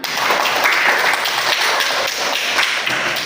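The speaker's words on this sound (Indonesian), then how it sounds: "beri tepuk tangan untuk anak Dirni." A classroom of students claps for a classmate after a presentation, dense quick clapping held steady for a few seconds, close and fairly loud.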